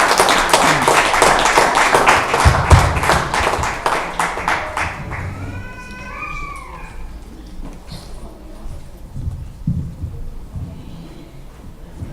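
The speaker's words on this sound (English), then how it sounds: "Give them a round of applause." Audience applause at a graduation ceremony, a dense burst of many hands clapping for about five seconds, then thinning out into scattered claps and murmuring room noise.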